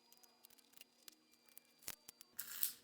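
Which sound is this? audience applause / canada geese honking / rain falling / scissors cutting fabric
scissors cutting fabric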